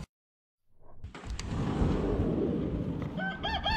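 Rooster crowing outdoors on a backyard homestead, a single drawn-out crow rising after a moment of silence, moderately distant and fairly quiet, with faint bird chirps toward the end.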